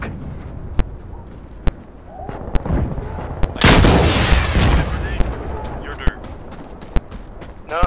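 Sharp, loud gunshots crack at regular intervals in the tactical shooter game Insurgency: Sandstorm, with a dense burst of heavier fire and rumble in the middle, while a player's voice talks over the action.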